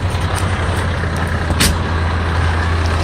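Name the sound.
water truck at a pull-off spot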